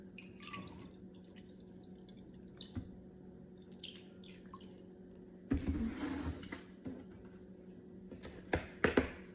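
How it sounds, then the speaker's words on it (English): A quarter cup of vinegar pours into a bowl in a short liquid splash about midway, with faint taps and clinks before and after in a quiet room. "First, let me add a 1/4 cup of vinegar into the bowl."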